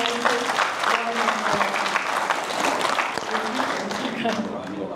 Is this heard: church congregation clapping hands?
yes